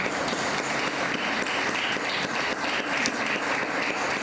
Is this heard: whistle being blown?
no